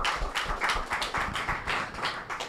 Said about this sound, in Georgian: მე მგონი აპლოდისმენტების ღირსია ეს მომენტი